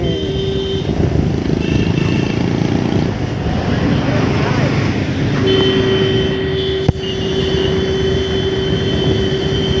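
R15 V3 and NS160 motorcycles, one running without an exhaust, roar continuously at close range through traffic, with a steady engine drone, a sharp click near the end, and someone talking over the noise.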